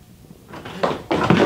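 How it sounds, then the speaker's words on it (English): Door rattled and shaken in a BBC radio drama as it refuses to open, heard as two bursts of knocking and rattling noise that build in loudness, with no voices. "The door! It won't open,"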